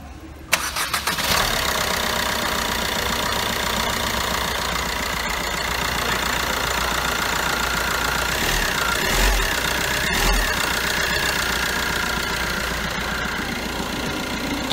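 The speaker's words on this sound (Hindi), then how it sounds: "आइए इंजन साउंड सुनते हैं।" The 1.3-litre Multijet diesel engine of a 2018 Fiat Punto Evo starts, then settles into a steady, rough idle with a knocking rumble, close and loud, running without change throughout.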